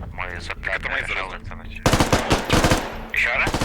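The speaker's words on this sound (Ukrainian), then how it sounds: "от він стріляє, чуєш?" Rapid bursts of gunfire in the video game Squad crackle continuously, growing louder and denser midway, with a voice talking over the shooting.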